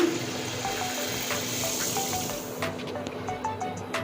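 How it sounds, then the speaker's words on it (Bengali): Water poured into a pan of sugar to make syrup for langcha sweets, a continuous splashing pour with light clinks, near and fairly even throughout. "দিয়ে দিচ্ছি জল চিনির রসটা করে নেব হ্যাঁ"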